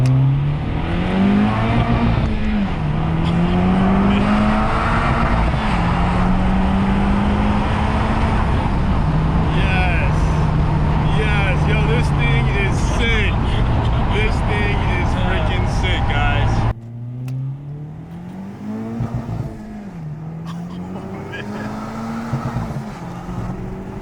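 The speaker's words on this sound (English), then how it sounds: "I love the sound of the exhaust. Once you really get on it, it really wakes it up." A Honda Civic Type R FK8 with a 6-speed manual and a performance tune revs hard through its exhaust, the engine pitch climbing and dropping across gear changes, loud and close, then easing to a lower drone.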